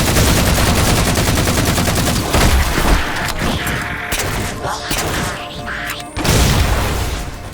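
Rapid, booming bursts of Halo 4 assault rifle fire in the video game, dense repeated shots with a few short pauses, loud and close.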